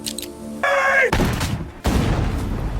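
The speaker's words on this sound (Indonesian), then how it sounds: "Yusuf ditembak mati, namun dia juga berhasil membunuh prajurit-prajurit Inggris yang mengejar" Gunfire in an Indonesian-narrated war film scene with British soldiers, heard as a loud sustained burst of broadband blasts after a brief tonal sound, then a second loud burst, continuous and close.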